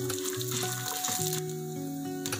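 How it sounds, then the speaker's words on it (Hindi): Peanuts and chana dal dry-roast in a pan, giving a soft, continuous sizzle and crackle with occasional stirring scrapes, with no talking. "मैं यहाँ पे हाफ कप मूंगफली यूज़ करूँगी ग्राउंड नट्स उसे भी हमें इस तरह से भूनना है"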